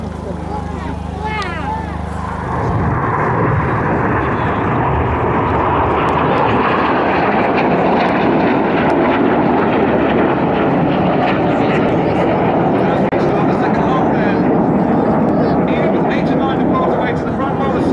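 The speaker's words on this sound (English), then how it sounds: "Pilots running in now, diving out to 100 feet as they cruise at 800 miles an hour." Display jets at the Cosford air show run in low at high speed in formation, their engine roar swelling into a loud, sustained rushing blast that fills the air, while a commentator speaks over the PA.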